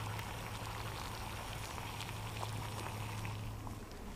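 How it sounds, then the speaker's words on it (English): Water churning at a vigorous rolling boil over a Swedish fire torch outdoors, a dense continuous bubbling rush with a low steady hum beneath, close and loud throughout. "we are at a full rolling boil here"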